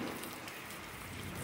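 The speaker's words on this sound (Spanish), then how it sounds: "Ya tiene mucho rato lloviendo" Heavy rain falls at night on the grounds of a primary school in Santa Catarina Estetla. It is a steady, dense hiss of drops striking the ground and other surfaces, heard alone without voices.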